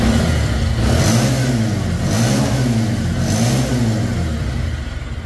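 A Bajaj Pulsar double-disc motorcycle engine runs close and loud, revving in several rising and falling surges over a steady throbbing idle, easing slightly at the end.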